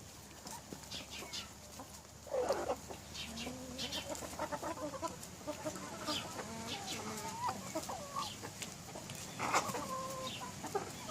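Chickens cluck and squawk nearby while being fed unsold market tomatoes, a busy flock chattering in overlapping bursts with a few louder calls standing out.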